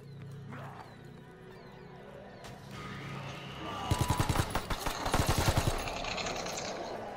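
Rapid bursts of automatic gunfire from a World War II-era weapon in Call of Duty WW2's Resistance DLC, loud, close and clustered in two volleys over a low game ambience.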